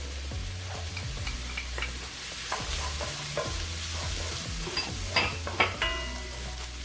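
Pimento peppers sizzle in a pan under a steady hiss, with a spoon scraping and stirring in rhythmic strokes and a few sharper clinks near the end.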